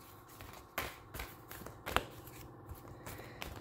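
A deck of tarot cards is shuffled by hand in a few quick riffling bursts, with soft papery flicks and a sharper snap near the middle, close and fairly quiet.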